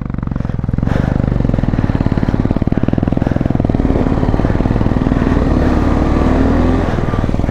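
A motorcycle engine revs hard and steadily at close range while the bike is stuck, a continuous loud mid-pitched roar with rattling clatter running throughout.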